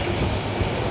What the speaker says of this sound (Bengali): এখন আমাদের ট্রেন মেঘনা ব্রিজ অতিক্রম করবে।